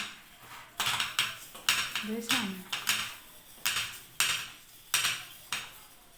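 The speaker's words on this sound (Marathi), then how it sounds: "भांडी माझं मी घासतो" Dishes being washed and scrubbed by hand at home, with repeated clattering knocks of pots and utensils in an uneven rhythm, close and fairly loud.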